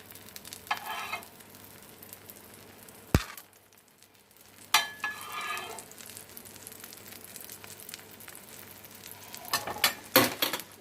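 Egg omelette fries quietly in oil in a pan, a soft continuous sizzle broken by a few sharp scraping knocks and stirring sounds of a utensil.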